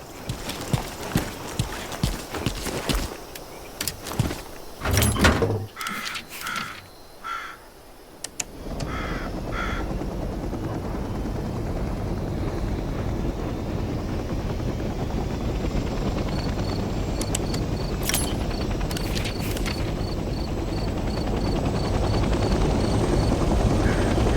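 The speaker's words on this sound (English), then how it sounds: "getting in the pilot seat and turning the engine on" A helicopter engine in the video game Hell Let Loose: Vietnam winds up after a few clicks and thumps, settling into a steady, loud rotor whine and hum that builds toward the end.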